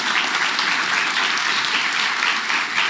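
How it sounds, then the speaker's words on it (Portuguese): An audience claps steadily at the close of a PHP conference talk, a dense, even wash of many hands throughout. "uma salva de palmas, Gamaliel Caruso."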